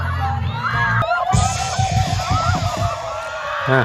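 A crowd of children at a school scout camp cheers and screams together, loud and close, with overlapping shrieks and shouts that carry on throughout.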